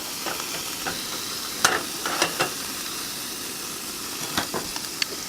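Breakfast frying in a single pan outdoors in a Central Oregon forest, seasoned with salt: a steady close sizzle with scattered sharp crackles and pops, no talking.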